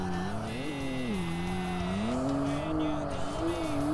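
Car engine droning steadily in the Tokyo Xtreme Racer Drift 2 racing game, pitch rising and falling with revs as the tires work, continuous and fairly loud with no pauses.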